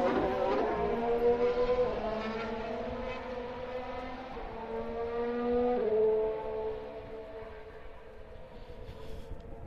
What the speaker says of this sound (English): Hamilton in the Mercedes going by